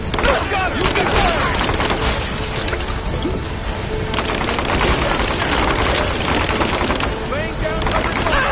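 Gunfire rattles nonstop in Rise of the Tomb Raider as cover fire is laid down, with dense automatic bursts, scattered single shots and booming impacts, and shouting voices heard throughout the firefight.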